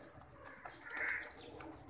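Pigeons coo softly nearby, a low murmuring call over faint rustling and background noise.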